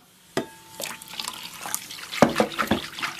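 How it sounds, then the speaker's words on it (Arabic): Hot boiling water is poured into a bowl while making dough, a sharp first splash followed by irregular gurgling and trickling pours, close and fairly clear. "هنا عندي ماء سخون يغلي باش نصبو"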